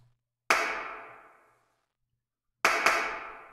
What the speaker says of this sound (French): C'est le module de clap.